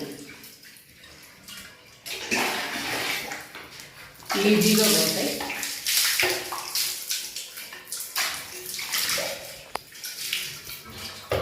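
Water pours and splashes into a bathroom washbasin during cleaning, rushing in bursts with sloshing swirls, while a voice talks briefly at the start and over it.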